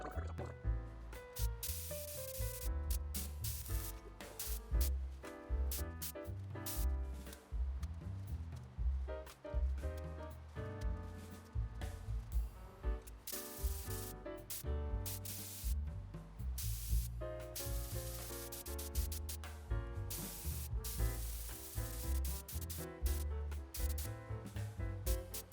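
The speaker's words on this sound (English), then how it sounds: "we're gonna start spraying." A spray gun lays clear coat onto a 1952 Vendo 23 Coke spin-top vending machine, giving a steady loud hissing spray in long continuous passes with brief pauses, close to the listener, with some background music.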